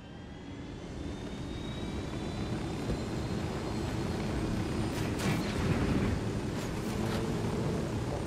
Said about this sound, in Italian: vediamo un po' se riusciamo a andarcene via egregiamente con l'elicottero.